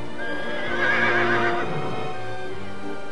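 A horse at a sit-down dinner whinnies loudly with a long quavering neigh. Hoof clops and faint room noise run steadily beneath it.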